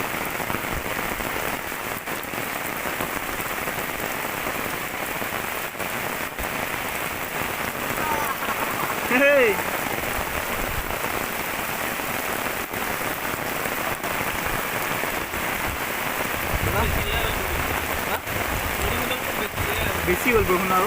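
Heavy rain pours steadily onto surfaces in a flooded village, a dense continuous hiss that stays loud throughout, with a voice speaking briefly over it.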